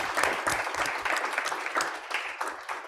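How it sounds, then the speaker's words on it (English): A small audience at a business pitch event gives a round of applause, a thinner, uneven patter of individual hand claps with audible separate hits that fade slightly toward the end. "So can we give him a round of applause?"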